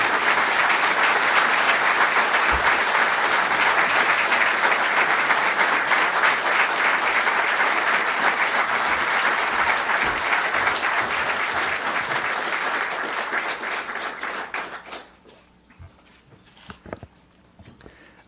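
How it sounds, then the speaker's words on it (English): An audience applauds to welcome Prime Minister Abe, a loud sustained roar of clapping lasting about fifteen seconds before breaking off, followed by a quieter stretch with scattered small sounds. "Would you please welcome him with your applause, Prime Minister Abe."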